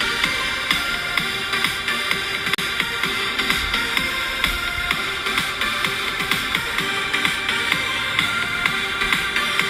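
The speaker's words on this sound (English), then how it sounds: "They have like a ton of different beats and synthesizer loops that you can put all together" A looping electronic dance beat plays, with punchy rhythmic hits under layered synthesizer lines. The pulse is steady and there are no voices.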